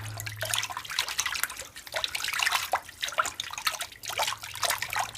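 A small crocheted Irish-lace bag swished and wrung out in cold water, bursts of sloshing, dripping and trickling that rise and fall in an uneven rhythm, close up and fairly loud.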